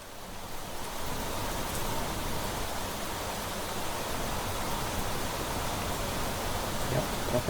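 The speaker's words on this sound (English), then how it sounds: "it's raining pretty heavy there now" Heavy rain pours steadily in the survival game Planet Crafter, a dense, even roar of downpour filling the whole stretch at constant loudness.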